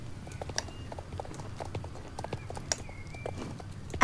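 Horse hooves clip-clop at a walking pace in the Star Stable Online video game, a steady near rhythm of light hoof taps over soft background game music, with no talk.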